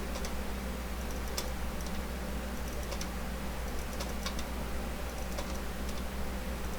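Small sharp clicks of a computer mouse come in quick pairs and scattered taps over a constant low electrical hum, close and fairly quiet, no voices.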